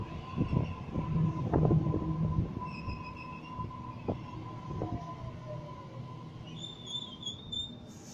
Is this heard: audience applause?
no